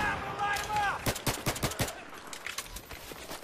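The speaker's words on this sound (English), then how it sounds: "this PP is a little slow on the shooting" PP submachine gun firing in Battlefield 3, several rapid bursts of sharp shots in quick succession, preceded by a brief whistling tone and followed by fainter distant shots and rumble.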